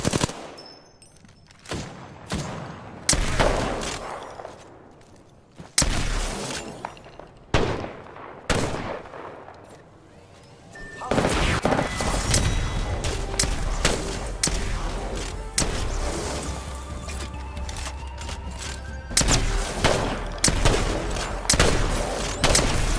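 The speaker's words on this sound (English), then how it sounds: "Making contact with enemy. Firing. Getting shot at." Repeated bursts of automatic gunfire and single shots in an Apex Legends firefight, loud and close, with rapid volleys, gaps, and a denser sustained exchange in the second half.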